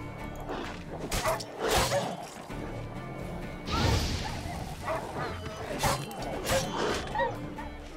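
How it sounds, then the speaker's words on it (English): Wild dogs attack in The Witcher 3 video game, several sharp barks and growls breaking out amid combat smashes and sword swooshes, with loud impact bursts around the middle and steady game ambience throughout. "Wild dogs."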